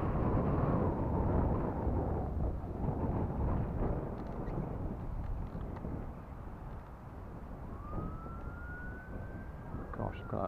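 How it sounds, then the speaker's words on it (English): Steady wind blows across an open hillside where a rubber-band-powered foam glider is being flown, a broad continuous roar under the whole stretch with a faint rising whine near the end. "Gosh, look at that wind."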